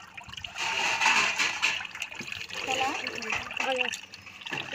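Coconut water trickles and splashes out of a holed coconut in a soft, uneven stream lasting several seconds, with people talking over it.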